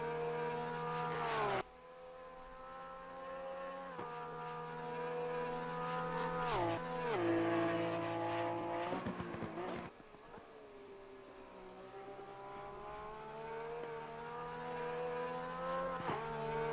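Engine note of a Porsche 911 GT3R race car lapping Monza in the Assetto Corsa Competizione racing game, a steady high-revving drone with repeated gear-shift drops and pitch sweeps, loud and continuous with no talk.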